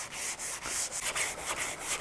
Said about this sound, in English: as he's sanding, you can see all the highs and lows